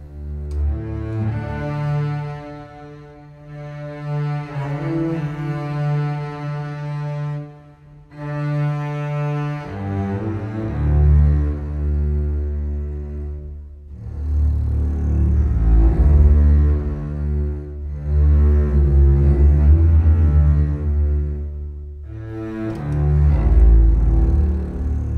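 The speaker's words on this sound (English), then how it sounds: "Very, very deep and nice bass sound." Muted orchestral string basses from the Berlin Con Sordino Strings library play slow, sustained legato notes, deep and warm, in several long phrases with soft joins, heard alone without other instruments.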